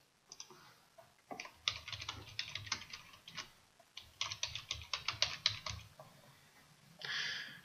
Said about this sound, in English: Simply type the comment in the space provided.